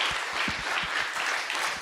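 A church congregation applauds during a revival Sunday service, a sustained mass of clapping from many people in a large room, even and continuous for the whole moment.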